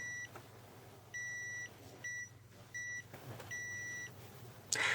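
A multimeter in continuity mode beeps as connector pins are checked during a Sony TV backlight repair, sounding several short and longer steady tones in an irregular sequence, close and clear.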